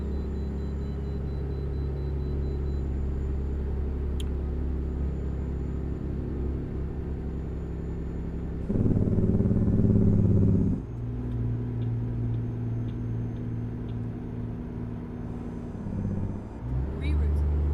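A truck engine in American Truck Simulator drones at a steady low rumble, its pitch rising briefly as revs climb before settling again, while a person talks over it.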